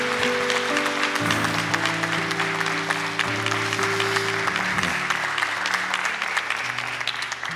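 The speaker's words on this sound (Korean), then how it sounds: "우리 축복의 박수를 한번 하겠습니다" A church congregation claps together in blessing for a family during a Sunday service, a full, continuous wash of applause over sustained organ or keyboard chords.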